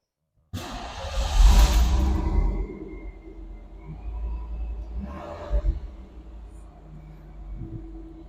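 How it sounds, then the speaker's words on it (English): A 1991 Pontiac Firebird convertible with a 5.0L V8 starts from dead cold: the starter cranks, then the engine catches in a loud, rumbling burst that settles into a rougher idle with a brief later surge, and a voice is heard faintly. "this is a startup on it. You can hear the motor from cold, dead cold."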